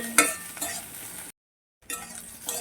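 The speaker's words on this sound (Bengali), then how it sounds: "টমেটো কুচিয়ে দিয়ে দিলাম টমেটো কোথাও ভালো করে ভেজে নেব" Chopped tomato and onion frying and sizzling in a pan while a utensil stirs and clinks against the metal, with a brief silent gap midway.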